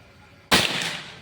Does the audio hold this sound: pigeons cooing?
no